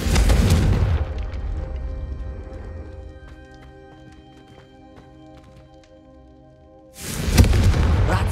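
A Confringo fire spell bursts in Hogwarts Legacy with a loud, broad boom that fades into a quieter stretch of light footsteps and tonal game sounds before a second heavy blast erupts near the end.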